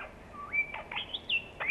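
A talking parrot gives a run of short whistled calls and rising chirps, some sliding up in pitch and others clipped, fairly close and clear against a quiet background.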